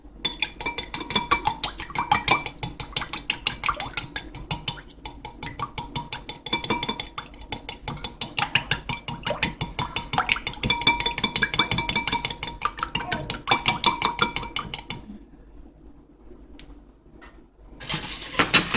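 A utensil whisks milk and an egg together in a bowl, a rapid rhythmic clinking and tapping against the sides that runs steadily, close up, then stops briefly before resuming.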